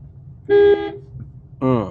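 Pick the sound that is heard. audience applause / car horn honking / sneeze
car horn honking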